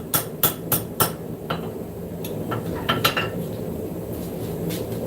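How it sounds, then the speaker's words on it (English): Hot steel is hammered at a slight tilt on an anvil during forging, giving sharp ringing blows. A quick run of evenly spaced strikes opens the clip, followed by scattered lighter taps at close range. "I have this tilted slightly and I'm hammering it at an angle."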